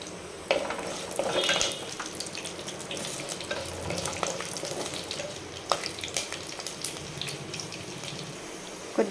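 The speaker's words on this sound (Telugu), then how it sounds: "కొంచెం మనం వెల్లుల్లి కూడా కొద్దిసేపు వేయించుకోవాలి." Garlic frying in a pan for a Telugu-style brinjal and tomato chutney, a steady soft sizzle with faint scraping and clinks of utensils throughout, fairly close, no talking.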